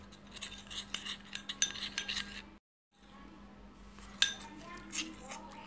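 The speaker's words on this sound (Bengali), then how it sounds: "তো এটা আমি গুলে নিচ্ছি একদম ভালো করে" A spoon scrapes and clinks against a bowl while a thick, sticky face pack paste is mixed, quick irregular taps close by over a steady low hum, with a brief silent gap midway.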